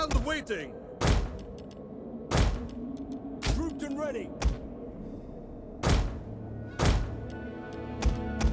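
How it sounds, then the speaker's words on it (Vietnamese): Stone-throwing catapults firing in Total War: Rome 2, a series of heavy thunks landing at irregular intervals, about seven impacts, with battle ambience and faint voices underneath. "Xe bắn đá."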